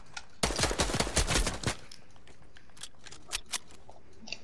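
A fast burst of loud automatic gunfire opens a 1v1 video game match, followed by a few scattered, fainter single shots in the background.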